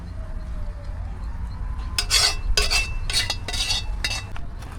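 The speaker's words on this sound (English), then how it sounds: "we're scraping pot" A cooking pot being scraped with a utensil while sauce is prepared outdoors in a garden, giving a run of rough, bursty scraping strokes near the mic over a steady low background hum.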